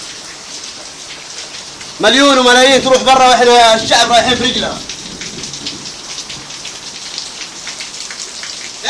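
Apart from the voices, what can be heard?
heavy rain falling outside a house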